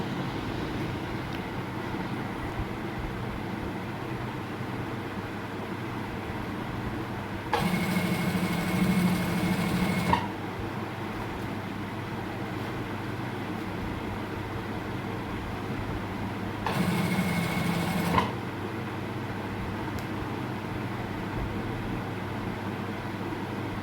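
A sewing machine stitches along the edge of a kameez in two bursts of a few seconds each. Each burst is a quick mechanical whirr that stands out against a steady low background hum.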